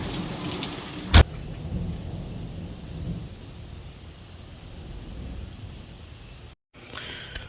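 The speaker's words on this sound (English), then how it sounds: "It is storming like crazy outside." Heavy rain pours steadily outdoors during a thunderstorm, with one sharp crack near the start and a continuous wash of rain throughout before a brief cut.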